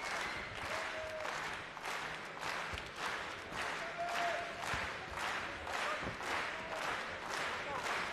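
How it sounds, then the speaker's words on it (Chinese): Audience applause and cheering at a women's kickboxing bout at a WLF fight night in Prague, filling the hall at a steady medium level with pulsing, rhythmic clapping throughout. "我们听到有节奏的这种鼓励的鼓掌声"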